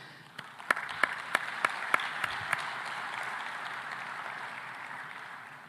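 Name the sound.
audience applause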